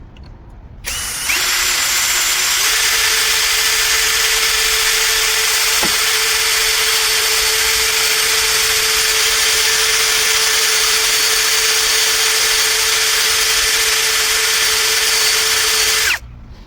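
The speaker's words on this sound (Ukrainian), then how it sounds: "Давайте спробуємо просверлити перший отвір." A Procraft PA 18 cordless drill bores a hole in metal with a lubricated bit, a loud steady whine starting abruptly, holding for about fifteen seconds with one brief click midway, then stopping.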